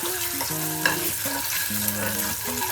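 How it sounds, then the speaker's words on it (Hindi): Boiled eggs frying in a pan for egg curry, a steady close sizzle with stirring scrapes, and a soft melodic tone running underneath. "तो अंडा को ऐसा लाल करके फ्राई करके लेना है हमें"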